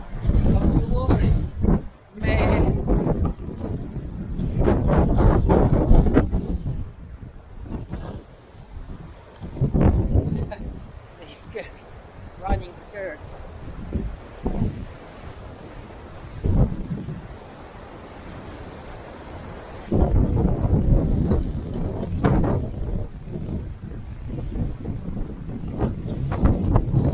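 Strong coastal wind gusts across the North Devon clifftops between Hartland Quay and Hartland Point, buffeting the microphone in loud rumbling bursts that rise and fall, with people talking through much of it.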